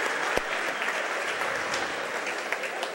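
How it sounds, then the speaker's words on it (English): A crowd in a high school gym at a boys' basketball game applauds cheerleaders and seniors, producing a steady, dense wash of clapping that holds evenly for the whole stretch with no voices on top. "Let's have a nice round of applause for our cheerleaders and seniors."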